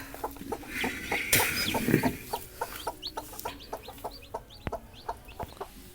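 Hens with hatching eggs cluck softly in quick, regular short calls, fairly near and alone, with a brief rustling bump in the middle and no talking.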